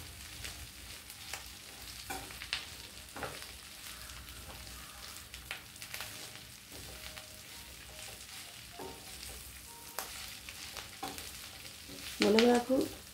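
A curry of drumstick leaves and potato fries in a pan, giving a quiet, low sizzle with scattered stirring clicks and scrapes, then a louder clatter of the spoon near the end; no one speaks.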